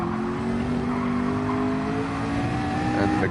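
Racing cars in a video game DTM-style race at Fuji, including a McLaren and a Honda, with engines droning in steady rising and falling pitch as they pass through corners, tires faintly squealing, loud and continuous throughout.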